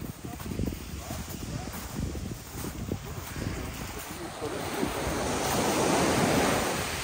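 Calm sea surf washing onto a beach, a steady broadband wash with wind rumble that swells slightly louder toward the end, with no talk over it.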